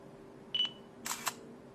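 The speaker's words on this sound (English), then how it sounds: "Press the shutter button again to save the photo" A Symbian phone's camera gives a thin focus beep and then a crisp double-click shutter sound, brief and close, against a quiet room hum.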